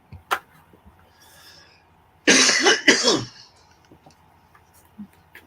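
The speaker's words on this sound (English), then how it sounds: "I know that antibiotics is like making me cough" A person coughs twice in quick succession, close and harsh, after a small throat noise earlier, in an otherwise quiet room.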